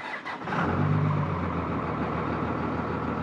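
A second-generation Dodge Ram with a Cummins diesel engine starts up and settles into a steady, moderately loud idle, its low rumble and a faint pump whine continuing evenly with no talking.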